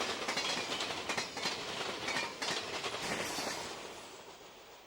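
A CSX Evansville-to-Nashville manifest freight train, R557, rolls past on the Henderson Subdivision near Guthrie Yard, Tennessee, with loud, rhythmic clickety-clack of wheels over rail joints that fades slightly toward the end.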